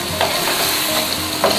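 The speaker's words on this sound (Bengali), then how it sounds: "তোমরা চাইলে চিকেনটাকে একটু এভাবে খুন্তি দিয়ে আর একটু মিহি করে" A spatula stirs and mashes chicken bharta in a hot pan, giving soft scraping strokes at an irregular pace over a constant sizzle, close and without voices.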